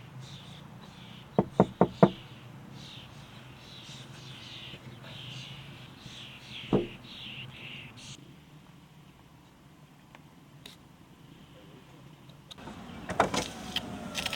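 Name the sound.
knocking on car window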